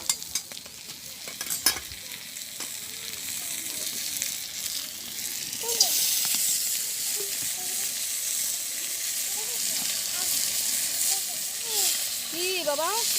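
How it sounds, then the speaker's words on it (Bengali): Onion frying in a pan beside hilsa fish with chili, a steady close sizzle with occasional stirring scrapes and clinks, while voices and bird-like chirps rise in the background. "তো আমি এখন এক পাশ ফাঁকা করে পেঁয়াজটা দিয়ে দেবো।"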